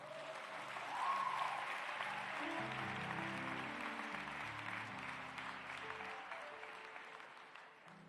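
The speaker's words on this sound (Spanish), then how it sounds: "Den un aplauso a mi Jesús." Steady applause from a church congregation, sustained clapping that fills the space and slowly tapers off near the end, with music playing softly underneath.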